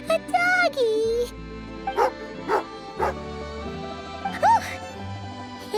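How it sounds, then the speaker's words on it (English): A small dog barks in Genshin Impact, several yappy bow-wows and a whimper spaced a few seconds apart, close and clear over soft game music, with a character voice speaking at the start. "Oh, a doggy."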